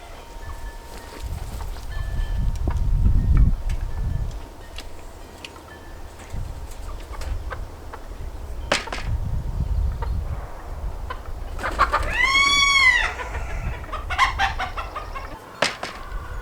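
A farmyard chicken clucks and calls from a backyard fence, with a louder, drawn-out crowing-like cry near the end, set against low rumbling outdoor background noise.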